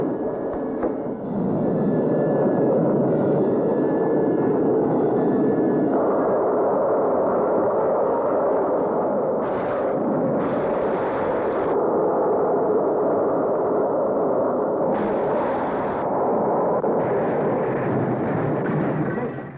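A rocket sled blasts off with a loud, continuous roaring rush that holds steady for many seconds, with intermittent higher hissing bands layered over the thunderous core.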